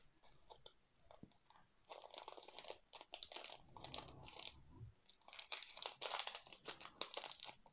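A plastic diamond painting packet is opened close up, producing quiet, irregular crinkling and crackling bursts that come in several clusters with brief pauses between them.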